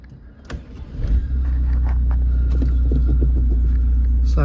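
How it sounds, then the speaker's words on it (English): A Volkswagen Scirocco 2.0 TDI diesel engine cranks briefly, then catches and settles into a steady, loud low idle rumble close by. "let's just start the car up."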